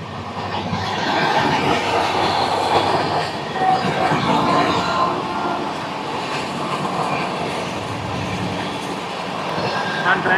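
The 12278 Puri–Howrah Shatabdi Express runs along an electrified line toward Kharagpur, a loud, continuous rolling rumble of wheels and carriages with faint rhythmic clatter.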